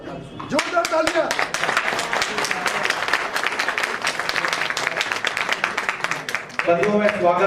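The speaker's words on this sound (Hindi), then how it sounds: "जोरदार तालियां" Loud, dense applause breaks out from the crowd at a Brahmin assembly rally in Sangam Vihar, the clapping rapid and sustained, with a speaking voice over it at the start and again at the end.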